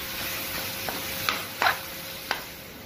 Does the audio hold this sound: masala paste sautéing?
yes